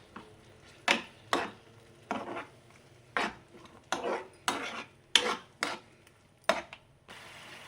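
Paneer frying in a pan with capsicum and tomato, heard as a rhythmic series of sharp clinks and scrapes of a utensil against the pan over a faint background sizzle.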